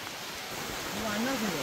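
Heavy rain falling outdoors in a Konkan village, a dense steady hiss close around, with a voice rising briefly over it near the end.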